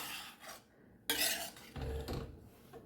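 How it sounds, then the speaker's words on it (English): A spoon clatters and scrapes against a pot as boiled matar peas are mixed into cooked masala, several close metallic knocks and stirring strokes with brief pauses between them. "I just added in the boiled matar to the cooked masala and I'll just mix it"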